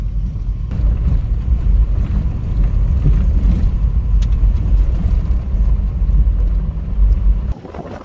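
A Toyota Camry creeps slowly along a rough track in Brookfield Conservation Park, South Australia, giving a continuous low rumble with bumps and rattles that drops off sharply near the end.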